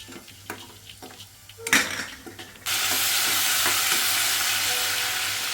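Small, thinly sliced onions drop into a hot pan for dal khichdi and set off a sudden loud, sustained sizzle. Light utensil clinks and stirring come first.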